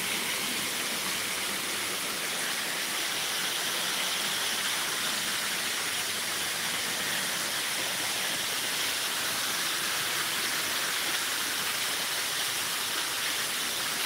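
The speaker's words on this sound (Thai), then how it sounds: "ตรงนี้เป็นท่าน้ำเป็นน้ำตก" Steady broadband rush of a waterfall at a riverside landing, continuous loud hissing water with no breaks or voices, constant in level from start to finish.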